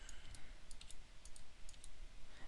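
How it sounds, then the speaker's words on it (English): Soft, quick keystrokes tap out a few shortcuts on a computer keyboard, faint and close, in small irregular clusters. "Shift C on the keyboard, T for move, and Y for rotate."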